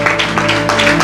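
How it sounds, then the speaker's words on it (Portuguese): A church congregation applauds steadily, dense clapping filling the moment with a sustained tone ringing beneath it. "levante comigo a mão direita e junto com ela a esquerda e aplaude o nome do Senhor Jesus."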